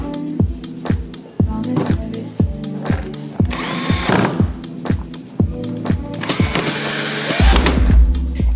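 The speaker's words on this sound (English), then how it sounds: "All we have to do is to screw in the rear panel." A power drill drives screws into the rear panel of a homemade Bluetooth boombox, with short repeated whirring bursts, rhythmic ratcheting clicks and a few longer, louder high-pitched runs close by.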